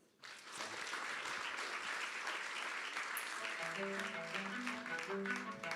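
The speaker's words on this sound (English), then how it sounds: "keep that applause going for all of our incredible demos today" Sustained applause from a large audience, steady and fairly loud throughout, with a voice starting to speak under the clapping near the end.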